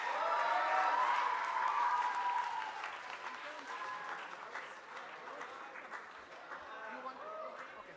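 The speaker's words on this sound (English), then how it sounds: "I think we can have a big round of applause for everybody." At a summer school closing ceremony, an audience applauds the students: moderate clapping that is strongest at the start and then thins. A voice talks faintly underneath as the applause fades.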